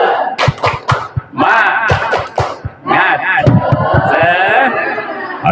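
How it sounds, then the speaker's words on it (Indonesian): An Indonesian classroom audience performs the tepuk semangat clapping chant, with sharp rhythmic group claps alternating with loud shouted chant syllables, energetic and close, in a crowded, lively room. "Coba tepuk semangat."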